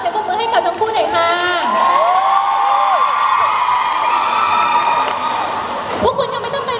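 Audience at a King Power promotional event with Thai celebrities Krist and Singto cheers, shouts and whoops loudly throughout, a dense crowd roar with shrill voices rising over it and a burst near the end.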